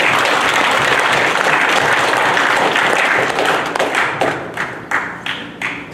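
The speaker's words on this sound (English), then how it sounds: "let's give him a big hand of applause" Dense applause from an audience at a welcome-home hero ceremony for a returning soldier, loud and sustained, then thinning into scattered individual claps as it fades.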